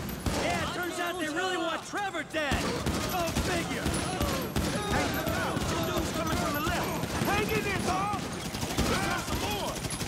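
Rapid bursts of gunfire from the Grand Theft Auto video game crackle throughout, mixed with other game sound and continuous excited voices talking over it.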